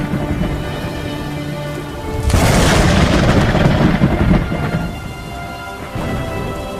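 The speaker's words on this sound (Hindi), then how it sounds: "बाहर बहुत जोरों की बारिश हो रही थी" Heavy rain pours down, swelling suddenly into a loud roaring downpour with a low rumble, then easing back to a steady patter.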